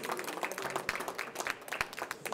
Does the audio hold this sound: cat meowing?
no